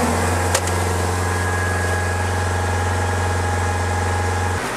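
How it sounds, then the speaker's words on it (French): A car engine runs close up to push cleaner through a clogged diesel particulate filter, holding a steady loud drone with a strong low hum for several seconds before it drops off at the end. "on va tranquillement accélérer et normalement, on devrait avoir quelque chose qui devrait sortir de l'échappement"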